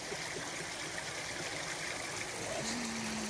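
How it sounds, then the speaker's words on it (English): Fresh mountain water runs in a stream as a steady, soft rushing and trickling wash with no clear breaks, heard alone without talk. "Fresh mountain water right there."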